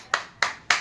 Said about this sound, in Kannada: ಏಯ್ ಎಲ್ಲರೂ ಚಪ್ಪಾಳೆ ಹೊಡ್ರಪ್ಪ ಚಪ್ಪಾಳೆ ಹೊಡ್ರಿ ಎಲ್ಲರೂ.